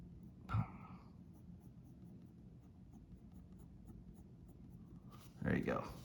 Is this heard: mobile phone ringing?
no